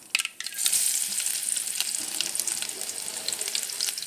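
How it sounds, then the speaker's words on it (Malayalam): Onions tipped into hot oil for a Kerala-style banana blossom and bean thoran, a brief clatter as they land, then a loud, steady close-up sizzle and crackle that runs to the end. "നമുക്ക് ഉള്ളി ഇട്ട് കൊടുക്കാം"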